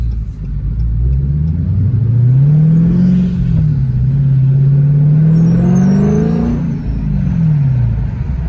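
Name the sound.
Dodge Challenger Scat Pack exhaust note with Vibrant exhaust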